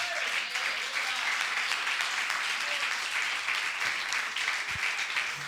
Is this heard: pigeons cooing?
no